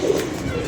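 A Sharka pigeon gives a short, low coo, a brief soft burst heard close by.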